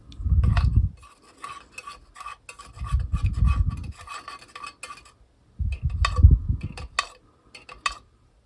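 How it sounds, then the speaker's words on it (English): Pigment is stirred into hot candle wax in a container, three bursts of scraping, rasping strokes separated by lighter clinks and ticks, close and fairly loud with no talking. "I'm going to add a little bit more pigment and stir that up."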